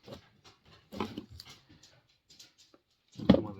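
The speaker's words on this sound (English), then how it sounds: "One of the dogs is coming to join me." Riley, a Labrador, lets out soft whimpering and snuffling noises close by in a quiet workshop, with a louder burst near the end.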